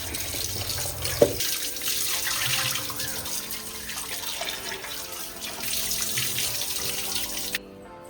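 Tap water runs steadily into a kitchen sink while mutton is washed, a close, continuous splashing flow with a brief clank near the start before the stream cuts off at the end.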